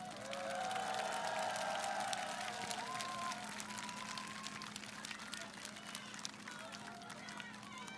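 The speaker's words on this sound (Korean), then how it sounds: "우리 두 분도 한번 박수 한번" Crowd at an outdoor political campaign rally in Chuncheon breaking into loud, sustained applause and cheering with dense rapid clapping, slowly tapering over several seconds while a steady hum sits underneath.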